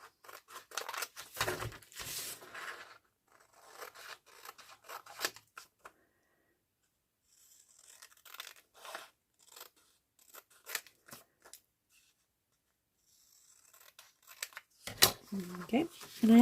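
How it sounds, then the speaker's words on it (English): Scissors snip through thin copier paper along a printed line while making junk journal pieces, giving several bursts of crisp cutting and rustling separated by quiet gaps, close and moderately loud. "I'm just going to cut along the black line."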